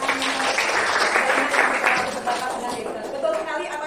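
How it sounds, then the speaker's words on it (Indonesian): Students in a class of ninth graders clap together in a dense, steady patter that fills the room, with voices mixing in beneath the applause as it carries on. "kita beri tepuk tangan"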